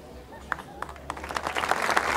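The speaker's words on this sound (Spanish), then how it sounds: "Fuerte el aplauso, merecido reconocimiento." Applause from a crowd at a band's tenth anniversary celebration, scattered claps building into steadier, louder clapping over about two seconds at moderate distance.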